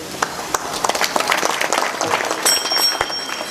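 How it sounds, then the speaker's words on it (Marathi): Audience clapping at a Marathi comedy kirtan, a scattered patter of hand claps that rises and thickens into broad applause, fairly close and steady throughout. "अहो तुमच्याबद्दल टाळी वाजवा"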